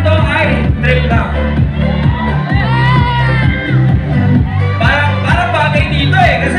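Club crowd at Holic Club in Quezon City cheering and shouting during a live rap performance, loud and continuous, with rhythmic chants and whoops over pounding bass beats from the music.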